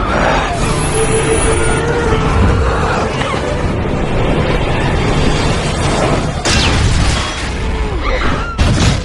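A loud, rumbling train explosion in a film roars through a busy cinematic soundtrack, with a sharp crash of debris near the end.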